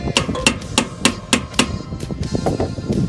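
A hammer taps an aluminum handrail to mark the metal: a run of sharp, evenly spaced metallic strikes, close and loud, followed by several lighter taps.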